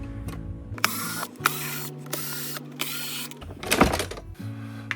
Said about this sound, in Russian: Шуруповерт. Включаем на минимальную, на троечку.